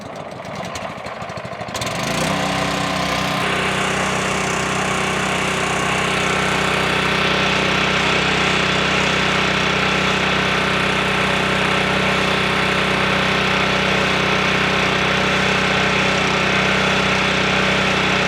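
A Comet P40 soft wash pump engine cranks and catches, then runs at a steady, loud, droning idle for the rest of the clip, alone without talk.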